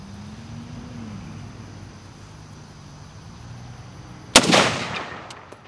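Single sharp rifle gunshot during outdoor target shooting, one loud crack after a quiet stretch with a low hum, followed by a brief echoing decay.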